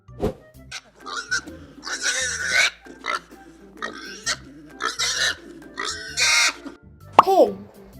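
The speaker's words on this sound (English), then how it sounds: "Pig" Repeated pig grunts and snorts come in short, rough bursts, close and fairly loud, ending with a brief high chime-like tone.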